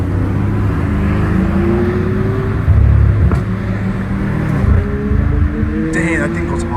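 A BMW M5 Competition with catless downpipes, its turbocharged engine droning and revving up in rising sweeps, close by, with excited voices talking over it.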